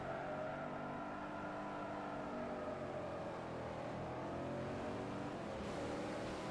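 A Chevrolet Camaro's engine revs in Forza Motorsport 4, a loud sustained drone with tones that rise and fall steadily as the car accelerates, heard alone without talk.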